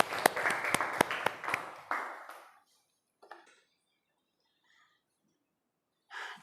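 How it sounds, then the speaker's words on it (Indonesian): Classroom applause from students during an online teaching session, a burst of clapping for roughly two seconds that fades out, followed by near silence with a few faint scattered sounds. "tepuk tangan"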